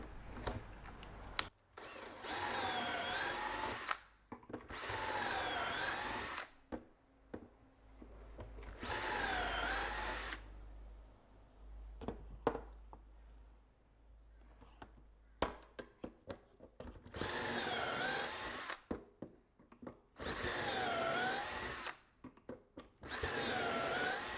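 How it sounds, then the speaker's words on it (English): A power drill whirs loudly in several bursts, boring pocket holes into wood with a Kreg K4 jig, with short pauses and quieter stretches of low hum between runs. "I'll turn the sound down when we start drilling because it's pretty noisy"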